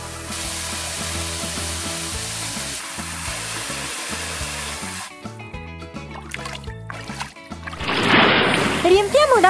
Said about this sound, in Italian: Riempiamo la piscina d'acqua.